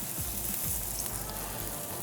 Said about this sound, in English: I can hear some sizzle.